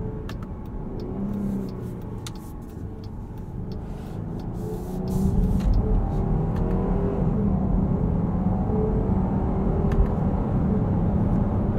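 A 2022 Jeep Grand Cherokee Limited V6 accelerates through its ZF 8-speed automatic, with cabin engine drone rising and growing louder about halfway through, then staying strong and steady. No one talks.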